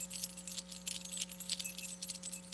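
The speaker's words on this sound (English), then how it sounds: "The heartbeat and the jingling of the keys" Keys jingle in steady rattling bursts, fairly close and continuous, over a constant electrical hum, with no talking.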